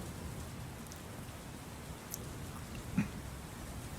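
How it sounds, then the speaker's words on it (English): A rain sound effect plays softly on a Fallout 76 live stream, a faint steady patter with a couple of tiny drips or clicks near the end, alone without talk. "Some rain sound."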